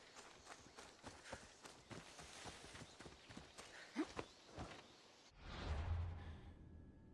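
Horse hooves clip-clop at a walking-to-trotting pace in Assassin's Creed Odyssey, a steady run of distinct close hoofbeats with no talking, ending in a soft rumbling whoosh.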